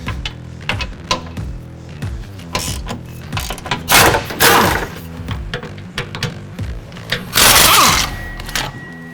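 Wrench or ratchet work removing 13 mm skid plate and strap bolts under a 2011-16 Ford Powerstroke 6.7L truck during a fuel tank swap: repeated close metallic clicks, clanks and knocks in irregular bursts, with two louder rattling stretches, no talk.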